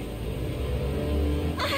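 A cat meowing in the video game 13 Sentinels: Aegis Rim, a drawn-out, fairly loud cry over a low ambient game backdrop, with a brighter burst of sound at the very end.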